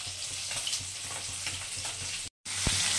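Parshe fish fry in mustard oil with a constant crackling sizzle and faint stirring taps, broken by one brief gap.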